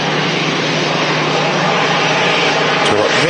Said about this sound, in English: And the Tui Dreamliner flight to Antalya is now entering